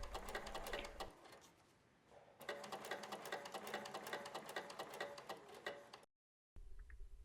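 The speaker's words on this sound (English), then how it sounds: "If you have a basting stitch on your sewing machine, use it." Sewing machine running a long basting stitch through swimwear jersey, a fast steady mechanical chatter in two bursts with a short pause between, close and loud, then a brief stop and a final restart.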